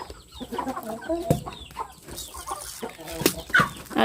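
Backyard chickens clucking close by in repeated short bursts, with a child and adults playing among them and a few sharper calls standing out over a busy background.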